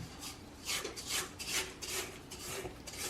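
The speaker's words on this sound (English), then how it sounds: "Just want to stop it for a little while and scrape down the sides of the bowl" A spatula scrapes butter and sugar batter down the sides of a mixing bowl for Christmas cake, in several soft, close, rhythmic rubbing strokes, with no talking.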